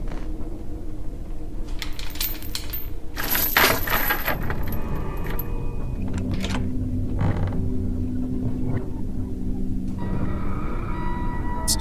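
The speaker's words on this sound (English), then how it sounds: "Let's open up this door." A door in a horror video game creaks open with drawn-out, grinding mechanical groans, with a sharp metallic clatter partway through and a low rumble underneath, no talk.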